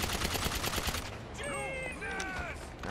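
Bursts of rapid gunfire from new weapons in the video game GTA 5 crackle through the first second, then give way to ringing electronic game tones.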